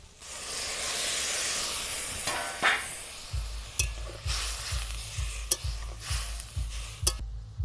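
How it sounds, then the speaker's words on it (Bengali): Water is poured into a pan of frying lentils for dal, giving a steady loud hiss and sizzle that fades into regular, rhythmic stirring scrapes, close by. "এবার আমি পরিমাণ মতো জল দিয়ে দেব"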